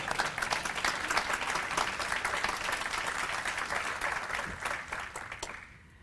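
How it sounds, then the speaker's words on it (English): Applause from the audience at a state bar equality awards ceremony, steady continuous clapping from a large crowd lasting several seconds before tapering off at the end. "sorry to garner so much applause"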